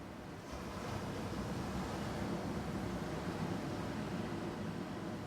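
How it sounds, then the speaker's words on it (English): Loud ocean surf at Leo Carrillo State Park beach in Southern California roars as a steady, rushing wash of waves close by, with some wind noise on the microphone. "These waves are really loud behind me."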